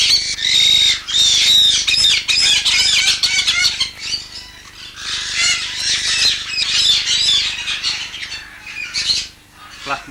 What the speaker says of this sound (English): Black Vasa parrot.